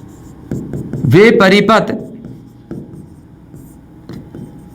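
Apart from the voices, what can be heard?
writing on a board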